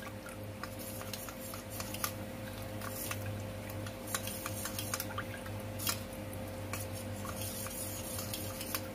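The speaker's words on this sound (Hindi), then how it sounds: "ये ऐसे बिल्कुल अच्छे से मिक्स करना है।" Custard mixture being stirred in a bowl, soft wet squishing and faint ticking spoon strokes repeating at a loose rhythm, quiet and close with no voices.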